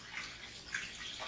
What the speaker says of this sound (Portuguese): Vamos aqui encher de água.